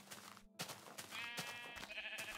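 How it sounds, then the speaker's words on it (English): Sheep bleating in Minecraft, a few wavering calls in quick succession, fairly close and clear over a steady game background with no talking. "Oh look, more effing sheep!"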